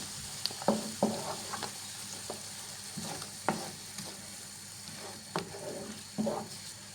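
Chicken-foot mushrooms sizzle steadily in a frying pan while being stirred, with sharp scraping strokes at irregular intervals over the constant hiss.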